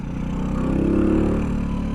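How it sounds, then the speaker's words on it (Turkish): A small 50cc Kuba RX9 motorcycle engine idles close by, a steady low exhaust rumble with a slight rise in pitch partway through. "Egzozdan böyle 50 cc'ye göre güzel bir hırıltı var"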